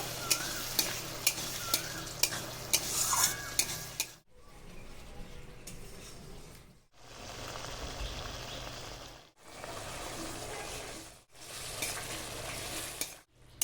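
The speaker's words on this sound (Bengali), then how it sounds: "টক দই দিয়ে খুব ভালো করে নেড়ে নেবো" Prawns with sour yogurt are stirred in a frying pan. A quiet run of quick scraping clicks gives way to soft sizzling bursts that are broken by several short pauses.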